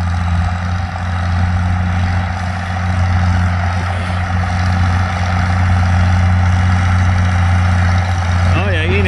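International Harvester 560 tractor, 63 horsepower with no front weight, plowing heavy ground: a steady low diesel drone runs throughout under a constant, loud engine tone, with talk over it.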